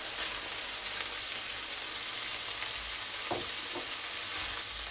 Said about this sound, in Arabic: نخلوه يتقلى بيان هكذايا البولي